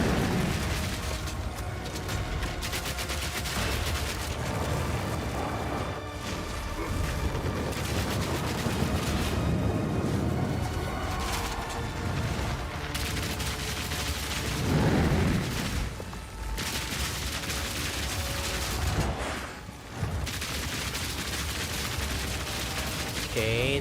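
Dense, continuous explosions and rapid blasts from spell effects in the action RPG Path of Exile 2 pound through a long combat stretch, loud and layered, with occasional talk underneath.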